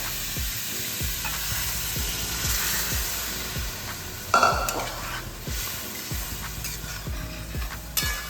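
Chicken stock poured into a pan of sizzling masala for Bengali-style chicken bharta, a steady frying hiss with repeated stirring scrapes and a brief louder splash of liquid midway.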